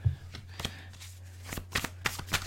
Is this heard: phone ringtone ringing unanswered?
no